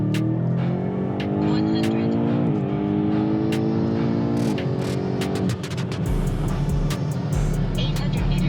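A BMW M8 F92 accelerates hard during a 0-100 and quarter-mile speed test. The loud, close engine note climbs steadily, drops briefly at each gear change, then gives way to a dense roar with road and tire noise.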